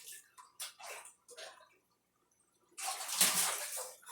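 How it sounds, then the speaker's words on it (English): Green terror cichlids at feeding time strike the water surface eagerly, giving a few short splashy bursts early on, then a louder, sustained churning splash of several fish hitting the surface together. "they strike the surface like that with gusto for food."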